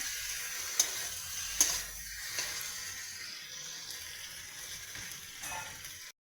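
Spices being cooked down in a pan sizzle steadily at close range, with a couple of sharp stirring clacks early on, then the frying hiss continues alone until it cuts off.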